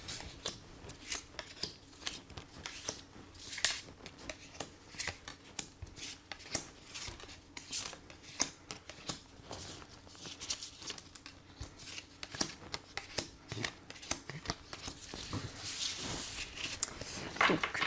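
Tarot cards being shuffled for a reading, a steady run of soft close-up riffles and flicks with brief papery bursts, fairly quiet and continuing throughout.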